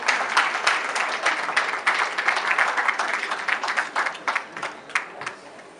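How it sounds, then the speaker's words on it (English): A crowd applauding steadily, dense rapid clapping that holds for several seconds without voices over it. "A round of applause, please."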